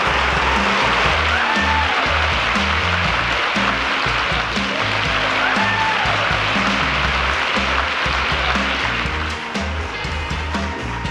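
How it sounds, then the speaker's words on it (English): Sustained applause from an awards-event audience fills the whole stretch, a dense steady wash of clapping that stays loud and even throughout. "please join me in a huge round of applause"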